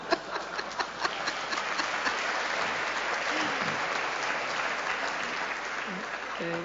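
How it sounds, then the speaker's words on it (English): An indoor audience applauds with sustained, even clapping that fills the room for several seconds, while a voice briefly speaks near the end. "Interesting that you would applaud that."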